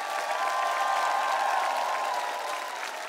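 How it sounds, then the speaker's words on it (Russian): Sustained applause fills a large concert hall at a televised choir contest, a dense, steady roar of many hands with faint cheering mixed in, loud and continuous throughout. "Но под бурные аплодисменты всего зала."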